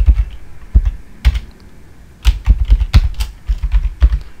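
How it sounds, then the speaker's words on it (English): Typing on a computer keyboard while entering a command and password: bursts of close, crisp key clicks in uneven clusters with short pauses between, no talking. "now just type in Masternode Start space and then your password."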